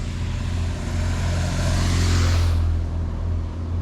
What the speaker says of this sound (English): we're at the side of the 272, so there might be a lot of traffic noise